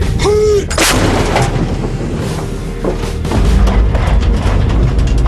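A Russian-origin 130 mm towed field gun of the Indian Army fires with a loud booming blast, followed by rumbling echoes and a churning low roar that lingers for several seconds.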